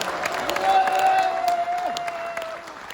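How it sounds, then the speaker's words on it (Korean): Audience applause and scattered cheering at an outdoor political rally, steady clapping throughout with a held voice or tone rising over the crowd. "다시 한번 큰 박수를 보내주시기 바랍니다"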